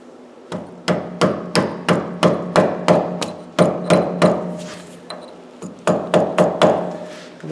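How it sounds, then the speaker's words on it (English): A hammer smacks a piece of metal against a lathe part in a workshop, about twenty sharp ringing blows in quick even bursts, loud and close, with a brief pause midway before the strikes resume. "I was using a piece of metal, and just smack it with a hammer."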